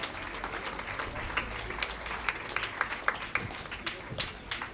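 An audience at a schools science fair prize-giving ceremony claps in applause, a dense patter of many hands with sharper claps standing out, lasting several seconds.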